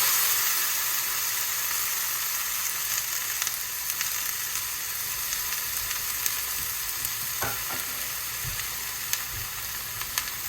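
Beef searing in hot oil in a pan for a slow cooker butter beef dish, a steady close sizzle and crackle with faint spatters running continuously with no talk.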